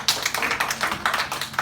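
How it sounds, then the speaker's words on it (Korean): A youth worship group in a church claps for a student, a short run of brisk, fairly even claps close by with little else around them. "우리 한번 박수 한번 쳐줍시다"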